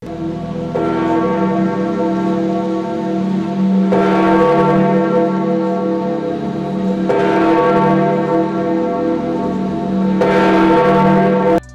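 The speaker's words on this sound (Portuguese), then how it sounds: "Os sinos da Basílica de São Pedro começam a tocar." The large bells of St. Peter's Basilica in Vatican City ring loudly and resonantly during a papal conclave, deep tolls striking roughly every three seconds with long ringing overtones between them, no voices.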